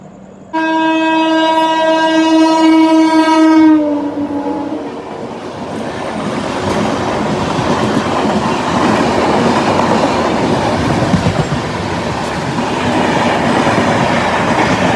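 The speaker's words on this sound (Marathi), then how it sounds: "आणि ही बघा समोरून ट्रेन येते" Express train horn sounds loudly for about three seconds, then an oncoming train rushes past on the adjacent track with a steady roar and rattle of wheels that continues to the end.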